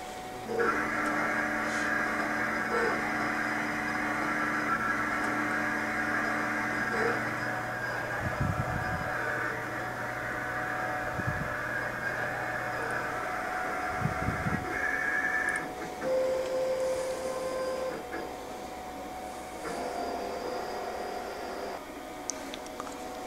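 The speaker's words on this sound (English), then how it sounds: "we'll print this job on your BN-20" A Roland BN-20 printer/cutter runs a print job with crop marks, giving a steady close mechanical whir and motor hum with repeated carriage sweeps and soft thumps throughout.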